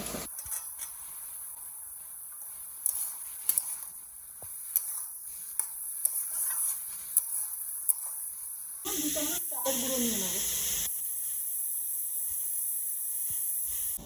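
Greens curry cooking in a pan with fried lentil fritters added: a steady, bright hiss of simmering runs throughout, with scattered sharp ticks and clicks from stirring, and the texture shifts and grows fuller partway through.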